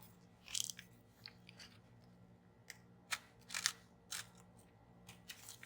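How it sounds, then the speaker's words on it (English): Several quiet, crisp snips from small scissors, scattered irregularly over a low steady background hum, with a few closer, sharper cuts in the middle. "Let me get my smaller scissors."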